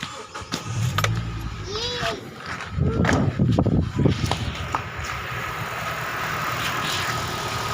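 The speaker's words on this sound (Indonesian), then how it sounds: "coba kita hidupkan mesin" A car engine cranks and catches with a few sharp bursts, then settles into a low, steady idle, with faint voices in the background.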